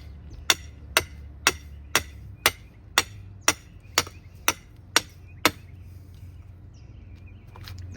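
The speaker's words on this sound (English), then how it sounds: "we're gonna take the rebar and just kind of hammer that in." A hammer strikes steel rebar being driven into hard, cement-like Arizona soil in a pot, about a dozen sharp, evenly spaced ringing blows half a second apart, then quiet with outdoor hum.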